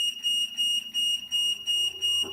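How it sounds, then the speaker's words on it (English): A vibration therapy machine gives a steady series of sharp, high electronic beeps in regular pulses, about six repeats, close and clear with no voices. "you can hear the beeping"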